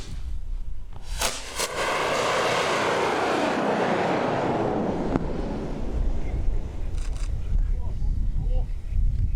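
A replica Singijeon rocket launched at an 80-degree angle roars skyward, a sustained loud rushing hiss that swells and then slowly fades as it climbs away, with a few sharp bangs at the start.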